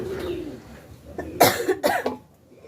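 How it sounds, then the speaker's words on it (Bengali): Two short bursts of coughing stand out, harsh and close, after a stretch of low pigeon cooing. "কাশি উঠে গেল"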